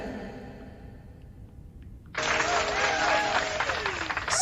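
A crowd of neighbors breaks into sudden, sustained applause partway through, loud and dense after a quieter stretch of room noise and faint talk.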